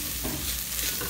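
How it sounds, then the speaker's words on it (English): Turmeric, chili powder and coriander are stirred into a sizzling pan of chana masala, making a continuous close frying hiss with faint scraping of the spoon throughout. "We mix it all up, get everything coated nicely."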